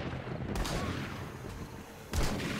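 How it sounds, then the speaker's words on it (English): Pipe shotgun fire in a survival video game base under attack: two heavy booming blasts, one early and one near the end, over a constant dense rumble of background gunfire and noise. "it's just the pipe shotguns"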